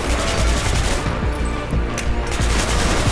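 Gunfire in the video game Hatred, a loud, continuous automatic barrage of rapid shots with heavy low booms, briefly thinning out midway before the dense rattle resumes.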